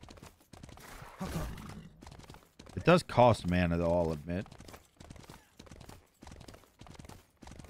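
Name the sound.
Lancelot's horse hooves clip-clopping in SMITE video game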